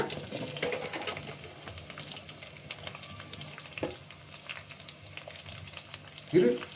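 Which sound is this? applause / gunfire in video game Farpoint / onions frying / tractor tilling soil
onions frying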